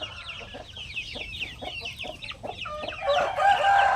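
Young chickens about two to two and a half months old cluck repeatedly at close range, a busy flock chatter of short overlapping calls that swells louder toward the end.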